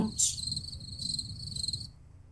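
Crickets chirp in a steady, high-pitched trill that carries on for about two seconds, with a faint low rumble underneath.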